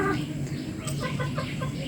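Backyard chickens of a heavily fed breed cluck in short, overlapping calls close by, a steady busy farmyard chatter with no talk.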